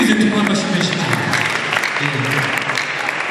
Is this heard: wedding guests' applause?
yes